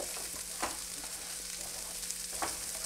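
Chopped large onion frying in a pan for an egg paniyaram gravy, a steady close hiss of oil with a couple of faint spoon scrapes as it is stirred.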